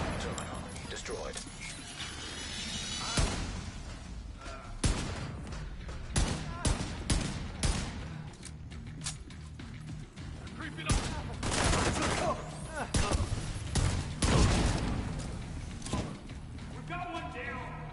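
Automated turret gunfire in the shooter game The Division 2 crackles in repeated sharp bursts and single cracks over several seconds, fairly loud against a background of game noise, with a voice speaking at times.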